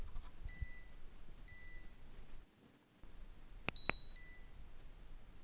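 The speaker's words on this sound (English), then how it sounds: "It will emit 2 more beeps and the light will be solid." A 509 Kingpin Ignite heated goggle battery gives a few short, high electronic beeps in pairs, with quiet gaps between them and no talking.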